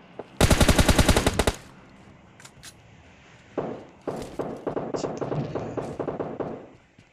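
Rapid automatic gunfire from a mobile shooter video game, a loud sustained burst of about a dozen shots followed by a scattered run of quieter single and rapid shots, with no talking over it.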